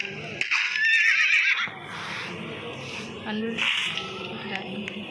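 Horses neighing at a horse farm, two loud, close whinnies a few seconds apart with snorting and shuffling between them.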